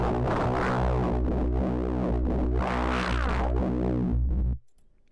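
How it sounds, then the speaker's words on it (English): A Vital software synthesizer drones through a harsh distortion effect, a loud, thick, buzzing tone with repeating sweeps rising and falling, holding steady for several seconds before cutting off abruptly. "Yeah, it's not the nicest sounding distortion."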